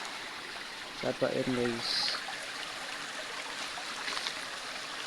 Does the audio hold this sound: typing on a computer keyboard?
no